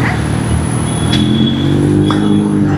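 Steady, loud road traffic at a crowded college square, a dense continuous rumble with a few tonal horn-like notes rising briefly above it, heard close and without pause.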